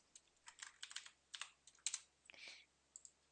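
Keys clatter on a computer keyboard while entering a formula in an Excel spreadsheet: a quick, irregular run of light, close clicks and taps, with faint background quiet between them.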